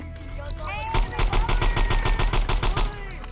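Rapid gunfire in the VR video game Gorilla Tag, a fast regular stream of shots after a brief lead-in, fairly loud with a voice faintly present in the background.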